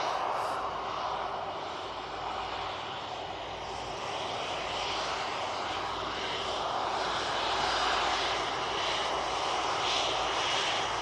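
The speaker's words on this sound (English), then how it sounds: "Beautiful air tanker." An air tanker aircraft passes at Manchester Airport, its engines producing a sustained, fairly distant roar that swells gently and fades again, with no talking.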